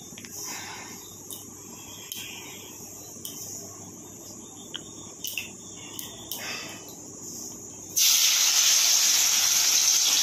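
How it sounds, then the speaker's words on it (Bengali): Boal fish goes into hot oil in a pan over high flame: soft clinks and faint hiss at first, then a sudden loud, steady sizzling roar in the final seconds. "একটু হাই ফ্লেমেই মাছগুলো ভাজবো।"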